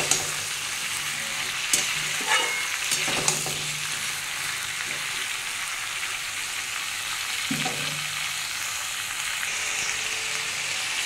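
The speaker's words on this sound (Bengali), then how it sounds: "বন্ধুরা এটা দিয়ে একটু ভেজে নেব" Tilapia fish fries in a pan with a constant close crackling sizzle, broken by a few scraping stirs of a spatula along the way.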